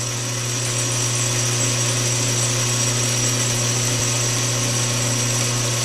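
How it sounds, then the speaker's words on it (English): Power tool cutting the nib off a small brass oiler part for a Stuart S50 steam engine build, a loud continuous whine with a steady pitch and a strong low hum throughout. "First thing I do is take and cut off the nib."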